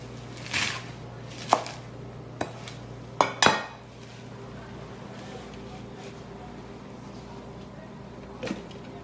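Green chillies and coriander worked in a hand chopper, a few sharp clacks and a quick rattling burst of blades spinning, then quieter background with a faint voice.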